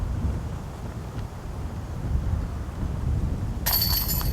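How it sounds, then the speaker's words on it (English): Wind gusting outdoors at a disc golf round, buffeting the microphone with a continuous low rumble that swells and eases, ending in a sharp bright rustle near the close. "the wind is gusting right now"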